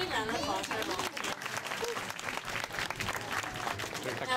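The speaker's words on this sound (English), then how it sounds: "Let's have a great big round of applause for our volunteer." An audience at a parrot show applauds a volunteer, a sustained dense wash of clapping that stays steady for a few seconds, with a voice speaking over it.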